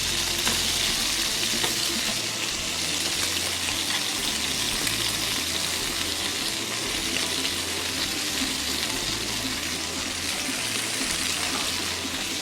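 Chicken pieces for Svan-style chicken fry and brown in a pan, a loud, continuous, dense sizzle that holds steady throughout with no talking.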